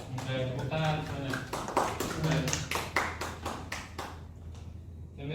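Students in a microteaching art class on Nusantara ornaments clap in a run of sharp, uneven bursts that fade out near the end, with a teacher talking over them.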